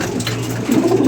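A pigeon coos close by, a low soft throaty burble swelling toward the end of a short call, alone with no voices.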